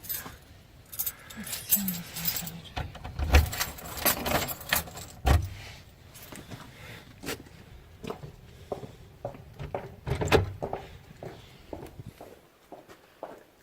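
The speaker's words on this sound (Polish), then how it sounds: "Oficjalne zamykanie drzwi." Keys jangle and rattle repeatedly as a door is shut and locked, with scattered footsteps and sharp metallic clinks, close and fairly loud over about fourteen seconds.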